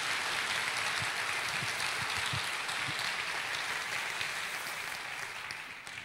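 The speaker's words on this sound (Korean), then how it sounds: "우리 하나님께 영광의 박수 한번 올려드립시다." A congregation at a church service applauds in a dense, sustained wash of clapping that fills the hall for about six seconds and tapers off slightly at the end.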